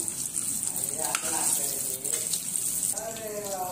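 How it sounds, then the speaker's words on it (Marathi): Peas, cauliflower and potatoes fry in ghee in a pan with a steady hissing sizzle and soft stirring, and a voice speaks briefly near the end. "आता आपण वाटाणा, फ्लावर, बटाटा फ्राय करून घेऊया।"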